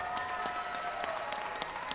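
Crowd applauding boxers after a championship bout in the ring at Casino Miami, a dense steady wash of clapping throughout, fairly distant and moderate in level, with a few sharper claps standing out.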